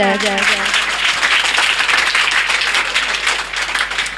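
Audience applause fills a children's day annual celebration, a steady, dense wash of clapping that stays loud throughout, with a voice briefly heard at the start.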